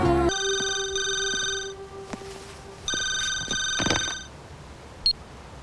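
A telephone rings in two electronic bursts with a pause between, followed by brief clatter and a short beep.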